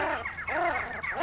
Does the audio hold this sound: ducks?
yes